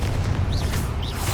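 The Confringo explosive spell bursts in Hogwarts Legacy during an ancient magic trial, a dense booming blast with rumbling low end and brief whooshing sweeps over a short loud stretch.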